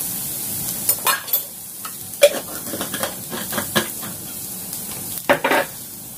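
Chopped onion is stirred in a dry pan with no oil for a Chinese-style home-cooked dinner, giving a soft sizzle under close spatula scrapes and clinks against the pan in uneven bursts.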